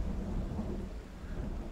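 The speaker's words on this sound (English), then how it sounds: "I actually can't remember hearing lightning and thunder in Project Zomboid before" Thunder rumbles low and continuous over steady rain in the zombie survival game Project Zomboid, heard briefly and fairly loud with no talking.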